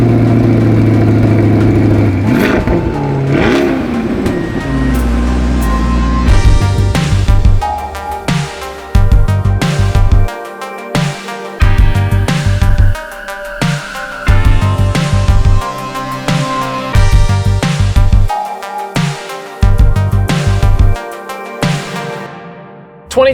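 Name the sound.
Chevrolet C8 Corvette Stingray engine driving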